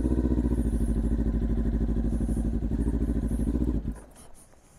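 Kawasaki Ninja 400 engine on a snowy, slippery road, a loud, close, throbbing motorcycle engine note with rapid firing pulses that runs steadily and then drops away abruptly near the end.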